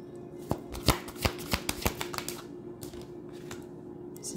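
Tarot cards shuffled by hand for a reading, a quick run of crisp riffling snaps and slaps close up, followed by a quieter pause and a couple of final taps, with no talking.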